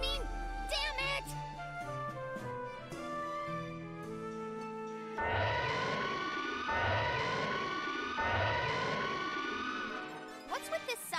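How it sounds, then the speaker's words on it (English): A synthetic siren in the video game Disgaea 4 wails in repeated rising sweeps, loud and close, following a stretch of electronic music tones. "What's with this siren?"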